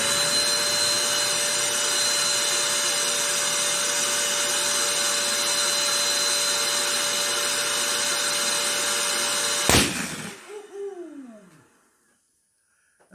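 Electric balloon inflator filling a 24-inch crystal purple latex balloon: a loud, steady blowing roar that cuts off abruptly, followed by a brief falling whine as the motor winds down into silence.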